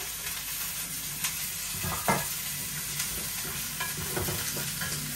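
Flat beans and potatoes sizzle and fry in an oiled pan with tomatoes, a steady close crackle broken by scraping stirs, with no talking.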